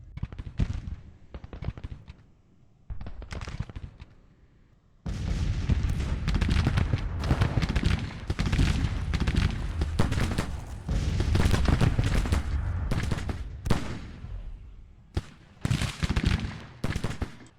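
Musket volleys and gunfire in the video game Grand Tactician: The Civil War at the First Battle of Bull Run, sharp separate shots at first, then dense continuous crackling fire with bursts, loud and sustained.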